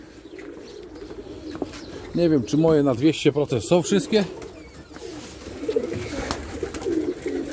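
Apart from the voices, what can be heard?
pigeons cooing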